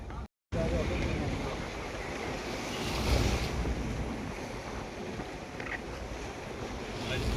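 Cold wind roars steadily across the open upper deck of a boat at sea off Mumbai, with waves washing continuously beneath it. Buffeting wind noise hits the microphone throughout, briefly cut by a moment of silence near the start.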